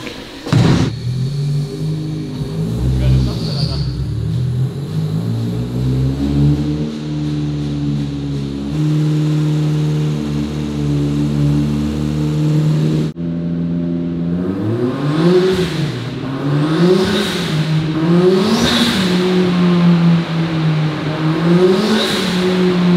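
A 427 PS car engine revving on a dynamometer, loud and close, climbing steadily through long sustained pulls, then a series of rising and falling revs with whining harmonics, no talk.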